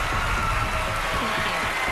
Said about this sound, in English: let's all give her an enormous round of applause as she goes off